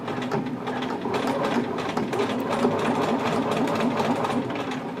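A sewing machine stitches elastic into a jogger waistband, whirring in a steady, close, continuous rattle of rapid needle strokes.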